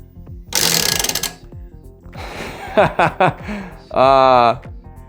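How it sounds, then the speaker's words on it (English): A prize wheel spins with a quick run of ratcheting clicks early on, then people talk and laugh over it. "Time to spin the wheel for magazine 1."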